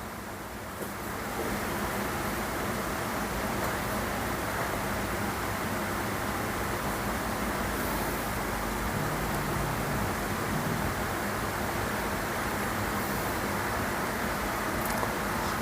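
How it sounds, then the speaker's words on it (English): Steady broadband hiss of several fans running in an apartment, a constant even wash of white noise that stays level throughout with no other distinct sounds. "Listen to the sweet sound of the white noise that is my apartment."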